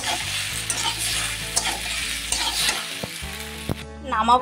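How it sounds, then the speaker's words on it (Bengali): Masala pasta in tomato sauce being stirred in a frying pan, a steady sizzle with scraping and clinking spoon strokes, close and moderately loud, fading near the end. "দিয়ে এবার সুন্দর করে মিশিয়ে নিই।"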